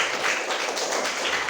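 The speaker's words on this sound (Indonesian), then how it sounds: "Kasih tepuk tangan untuk kelas 5." A classroom audience gives a fifth-grade class a short burst of applause, with steady, dense clapping throughout.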